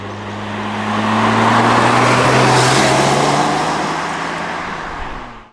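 A Lotus Evora sports car engine drones steadily while driving, with a low, even hum and broad road roar, swelling slightly in the middle before easing off near the end.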